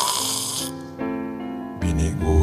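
A preacher mimics a loud, rasping snore during a sermon, giving a couple of drawn-out throaty snorts with a brief voiced hum between them, close and alone.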